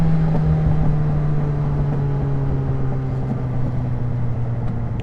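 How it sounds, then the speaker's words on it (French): A close, steady motorcycle engine drone with a strong low hum and a slight dip in pitch partway through, running continuously without a break. "La moto elle pète trop frère, c'est abusé."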